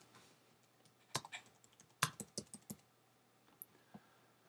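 A number being typed on a computer keyboard into a PDF form: a few faint, close keystrokes in a short cluster, with scattered single clicks before and after in a quiet room.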